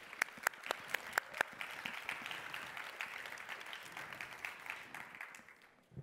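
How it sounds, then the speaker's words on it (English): A conference audience applauds a panel at a session on freedom from violence, a full round of clapping with a few crisp nearby claps early on, holding steady before fading out at the end. "Please, a round of applause for them."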